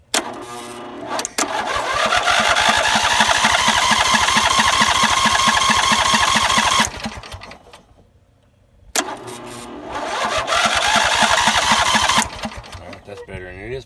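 A John Deere tractor engine cranks over in two long, loud, close bursts of rapid rhythmic chugging, separated by a brief pause, without clearly catching and running.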